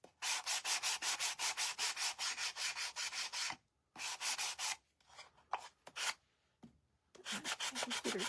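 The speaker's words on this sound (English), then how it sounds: "We're going to go back here and sand a couple of this just to kind of even it out a little." A Gator sander works over a vintage wooden surface being prepared for decoupage, giving loud, close, rhythmic back-and-forth rasping strokes in quick runs. Short pauses break up the strokes, then the sanding resumes.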